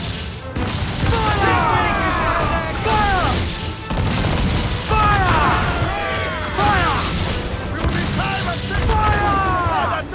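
Ship cannons fire in the pirate game Assassin's Creed IV: Black Flag as repeated heavy booming volleys, loud and close in clusters, with crew voices shouting over the barrage.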